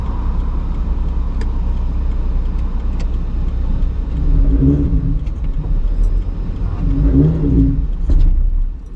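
A car engine idles and revs at a night session on the Thunderhill racetrack, a steady low rumble with two louder rev swells toward the end.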